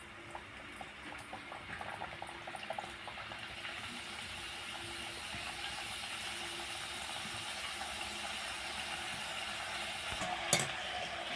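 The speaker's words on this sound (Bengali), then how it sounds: "এবার এই বিঙ্গোগুলো ভেজে নেব।" Homemade Bingo Mad Angles snacks fry in hot white oil in a kadai, producing a steady, fairly quiet bubbling sizzle with a brief louder clatter near the end.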